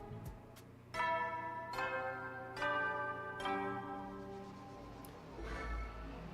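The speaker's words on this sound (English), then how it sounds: "There's the bell again." Bell in the video game The Hundred Line: Last Defense Academy, struck four times at a steady pace with ringing tones that sustain and fade, followed by a softer fifth tone, over a quiet low hum.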